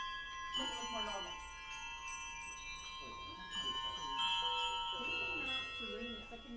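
A handbell rung by rotating it, bright sustained ringing tones overlapping softly in a conference session on four-in-hand handbell technique, with someone talking over the ringing.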